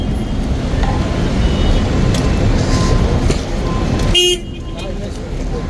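Congested street traffic in Makkah near pilgrims' hotels at prayer time hums steadily, with car horns honking, one loud close blast near the end, under someone talking.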